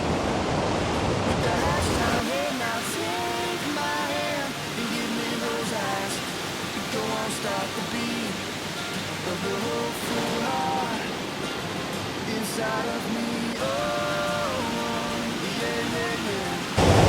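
Rushing waterfall carrying a large volume of water, a dense continuous roar filling the whole clip, with people's voices talking over it throughout.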